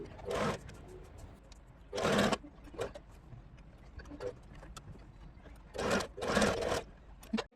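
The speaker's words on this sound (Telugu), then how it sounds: "నెక్ చుట్టూ టాప్ స్టిచ్ అనేది వేసుకుంటున్నాను వీడియోలో చూపిస్తున్నట్లు స్టిచ్ చేసుకుంటూ వెళ్ళాలి" Sewing machine top-stitching around the neckline of a blouse, heard in three short whirring runs with quiet pauses between them and no voices.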